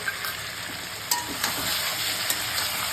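Potatoes and pointed gourd sizzle steadily as they are sautéed with cumin paste, pepper paste, coriander, turmeric and chilli powder, a continuous close frying hiss broken by a few sharp crackles and stirring clinks.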